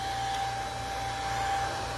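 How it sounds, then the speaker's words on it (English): A blow dryer on its low cool setting dries fresh paint with crackle medium, giving a steady, unbroken whoosh with a faint constant whine, close and loud throughout. "I'm going to speed that up a little bit with my blow dryer. So bear with me for the noise."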